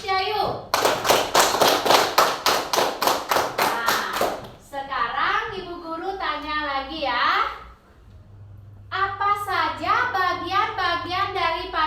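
A fifth-grade class of children claps in quick rhythmic unison for a classmate, a loud burst of evenly spaced claps lasting several seconds, followed by children's voices and a teacher speaking.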